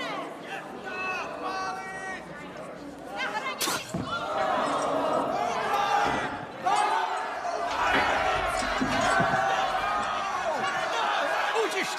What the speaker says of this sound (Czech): Utište ten dav!